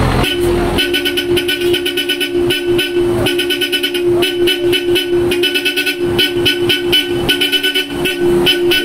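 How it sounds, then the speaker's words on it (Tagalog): A Bosch Europa horn on a Toyota Raize blares in a steady, bright, sustained tone, loud and close, with short breaks and repeated honks, no talking. "pakinggan muna natin yung tunog ng Bosch Europa."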